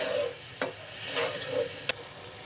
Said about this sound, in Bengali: এবার চিংড়ি মাছগুলো মশলার মধ্যে কষিয়ে নিব।